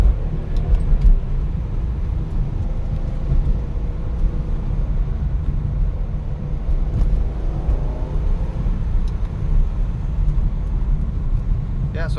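A BMW E46 M3 with SMG gearbox in Alpine White drives along, its engine a steady low drone with road noise, rising and falling through downshifts over several seconds.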